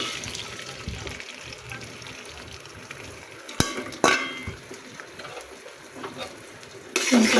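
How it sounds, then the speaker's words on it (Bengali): An egg drops into hot oil in a home kitchen, giving a steady sizzle and hiss with stirring and scraping noises, sharp clatters of utensils, and a louder burst of frying near the end. "তেলটা সুন্দর গরম হয়ে গেছে, এখন আমি ডিমটা দিয়ে দিলাম।"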